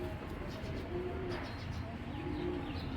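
A Sherajpuri female pigeon coos softly with others nearby, a low murmuring coo under a steady background hum.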